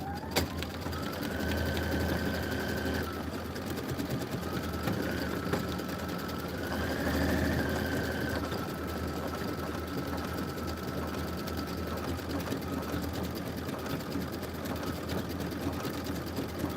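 An embroidery machine stitches out a leaf design in aloe-colored thread, a loud continuous mechanical whir with rapid needle chatter and slight pitch shifts, running alone throughout.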